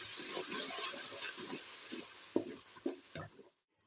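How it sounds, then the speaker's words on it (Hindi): Onion and garlic paste fry with cumin in a pan, a soft sizzle with scraping stirs and a few sharper knocks toward the end before the sound cuts off to silence. "प्याज और लहसुन डाल के हमने 3 से 4 मिनट तक भूनना है"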